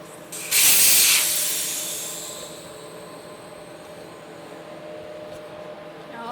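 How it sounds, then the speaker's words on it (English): Air rushes out of a bicycle tire after its valve stem is removed, a loud sudden hiss that peaks quickly then tapers off into a faint fading rush. "now all the air's out of the tire."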